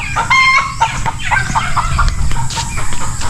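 Chickens cluck and squawk close by in a busy yard, with a rooster-like call and scattered sharp clucks over steady background noise.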